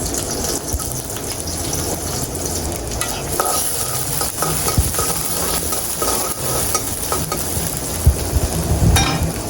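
Eggplant and onion frying in oil: a loud, thick, bubbling sizzle with constant stirring and scraping in the pan, close and busy throughout, no one speaking.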